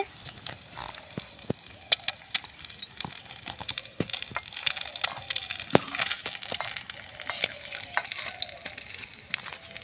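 Quail eggs fry in a pan with a steady crackling sizzle, punctuated by sharp clicks and scrapes of stirring, filling the clip close up with no voices.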